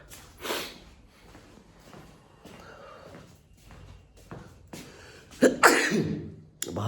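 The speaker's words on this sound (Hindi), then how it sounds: "बाहर आता के साथ ही छींक आ गई" A single sharp sneeze near the end, close and loud, after quiet breathy noises and faint background sounds indoors.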